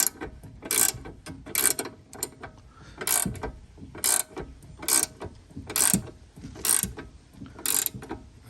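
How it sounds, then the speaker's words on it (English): A ratcheting wrench cranks a pinch bolt out of the front control arm on an Audi B8 A4, A5, S4, S5 or Q5, sounding as short bursts of rapid clicking repeated about every second, close and clear with no talk. "turn your ratcheting wrench and back out again"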